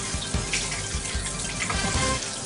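Steady high-pressure water spray rinsing hair and scalp during a shampoo, a continuous dense hiss with splashing, close and fairly loud throughout with no talking.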